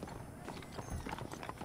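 Horses trot with a brisk, continuous clip-clop of hooves in Red Dead Redemption, heard close and steady while a voice talks over it.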